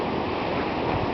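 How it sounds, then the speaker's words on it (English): Strong sustained wind roars over a city in a dense, unbroken rush of noise with slight swells in strength, loud and steady with no voices. "It's definitely sustained winds non-stop for about a minute, and then on top there's those gusts"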